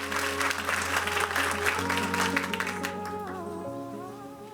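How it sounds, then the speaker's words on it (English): Audience applause at a school board meeting, a broad steady clatter of clapping with a sustained tone and faint voices underneath, gradually thinning toward the end. "Give them one more round of applause."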